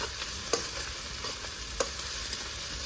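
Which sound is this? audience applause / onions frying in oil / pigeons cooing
onions frying in oil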